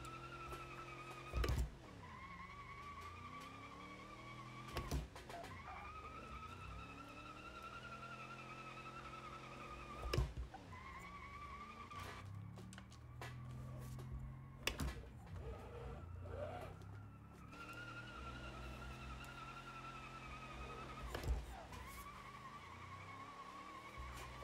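A car in the BeamNG.drive video game revs hard in neutral and drops into gear, the engine whine rising and falling in repeated cycles broken by sharp skid bursts roughly every five seconds, loud and close with no talk.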